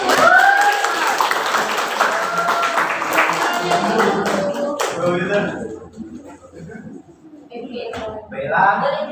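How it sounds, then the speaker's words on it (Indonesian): A small group claps their hands in a classroom-style discussion, a burst of clapping up front with voices overlapping, then the clapping thins and talk takes over. "Tepuk tangan dulu."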